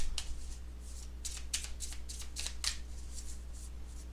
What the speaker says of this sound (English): I want to shuffle like this at least once